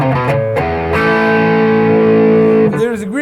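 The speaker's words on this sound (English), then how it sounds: "There is a great difference when you are playing with distortion, and also in series mode." An SG electric guitar fitted with Entwistle HVN humbuckers plays through distortion, loud sustained chords with thick overtones, preceded by a few short picked notes and ending in a wavering bend.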